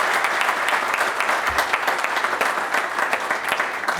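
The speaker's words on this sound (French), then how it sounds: "Je vous demande de l'applaudir, Capucine," Audience applause at a campaign meeting, a continuous, fairly loud wash of clapping from a crowd that holds steady for the whole stretch, with no talk over it.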